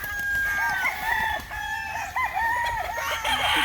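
A Boston Esculino gamefowl rooster on a game farm in Agusan del Sur crows loudly and close, with repeated strained calls and clucks from other fowl nearby.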